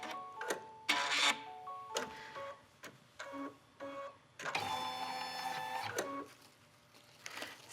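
An embroidery machine stitches down the strap of a zipper clutch, making quiet, close mechanical ticking in short bursts, then a steadier whirring run of rapid stitching before stopping.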